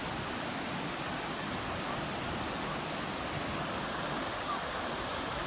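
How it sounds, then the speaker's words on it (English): Surf breaking on a beach at Oceano Dunes State Park, a steady broadband roar of churning waves with no distinct single crashes, loud and continuous throughout. "the waves are breaking nearly over his head"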